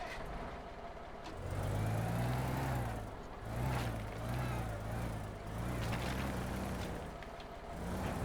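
A truck in the video game Teardown drives with a steady low engine drone that swells and dips as it moves, a continuous mechanical rumble with a few sharper clanks and knocks.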